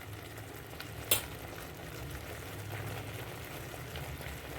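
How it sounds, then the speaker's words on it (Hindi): Masala with salt frying in oil for a sweet potato kofta gravy, a steady quiet sizzle with one sharp clink of a spoon early on. "और अभी आप देख सकते हैं ये भुन रहा है, अभी ऑयल सेपरेट नहीं हुआ है"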